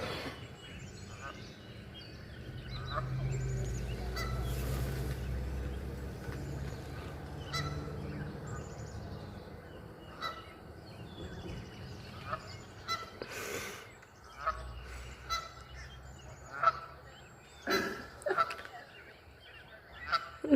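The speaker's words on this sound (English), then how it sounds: "the geese and 3 ducklings are stuck in the tennis court" Geese honk repeatedly while trapped with three ducklings inside a fenced tennis court, their calls coming in uneven, overlapping bursts that grow sharper and louder toward the end, with faint voices in the background.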